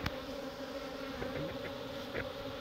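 Korean native honeybees from a naturally caught swarm hum in a steady, droning buzz, close and continuous, with a few faint clicks and no voices.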